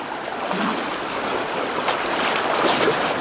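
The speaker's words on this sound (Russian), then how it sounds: "Вот такая горная река, классная." A mountain river rushes in a continuous, loud, broadband roar of flowing water, close by and steady throughout, with no voices.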